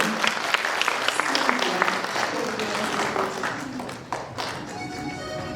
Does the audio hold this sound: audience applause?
yes